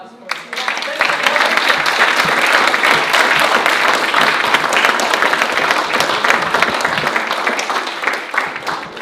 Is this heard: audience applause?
yes